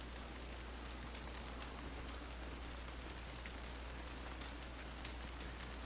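Steady rain falling in the Western-themed video game WildRP, an even, continuous hiss of drops on surfaces with faint scattered ticks, heard alone at low level.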